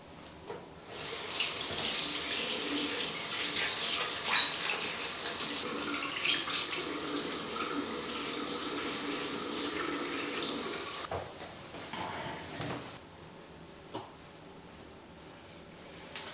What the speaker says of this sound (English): you're then going to rinse the device and your face just with some warm water